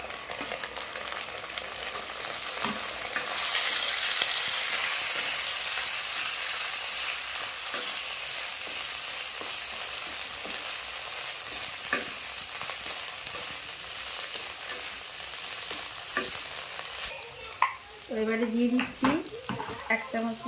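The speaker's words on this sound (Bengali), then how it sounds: "পেঁয়াজটা দেখো লাল হয়ে ভাজা হয়ে গেছে এবারে দিয়ে দিচ্ছি আদা বাটা" Onion, ginger paste and chopped tomato fry in a pan with a steady loud sizzle, stirred throughout with occasional scrapes and clinks of a utensil, ending in a few sharper metal knocks.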